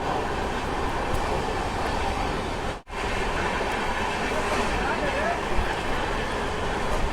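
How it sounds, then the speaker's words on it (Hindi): The Purva Express passenger train rolls onward after leaving Mohania (Bhabua Road) station in Kaimur district, Bihar, with a steady loud rumble and rhythmic wheel clatter heard from inside, interrupted by one brief dropout. "अपनी ये पूर्वा एक्सप्रेस निकल चुकी है बिहार के कैमूर जिले का मोहनिया यानी भभुआ रोड रेलवे स्टेशन से"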